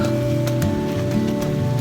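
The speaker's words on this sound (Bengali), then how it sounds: "বৃষ্টির মধ্যে আমরা দেখতে যাচ্ছি বৃষ্টি পড়ছে" Steady rain falling outdoors, a dense continuous patter on surfaces close by, filling the whole stretch without any talk.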